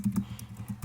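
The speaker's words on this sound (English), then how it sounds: "I'm typing something." Typing on a computer keyboard, a quick irregular run of near, crisp key clicks at close range, about six strokes in under a second with no voices.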